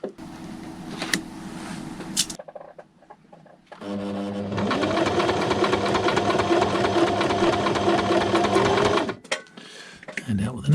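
A sewing machine runs through furry fabric for a drone detector microphone cover, a loud steady whirring motor for several seconds after short starts and stops, with a voice talking before it begins.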